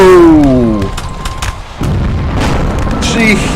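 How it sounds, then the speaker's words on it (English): Cannons fire in the Rise of Liberty video game, a heavy booming blast that rolls into a rumbling decay, followed by another deep report and crackling noise after a brief lull, loud and close. "and the outgoing cannons are just as unnerving"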